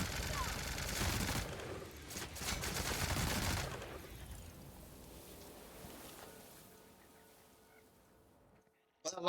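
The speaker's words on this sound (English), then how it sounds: "Well, the long rifle works well." Long rifle gunfire in The Outer Worlds video game, several loud sharp shots crowded into the first few seconds, then a fading rumbling tail that trails off into near silence.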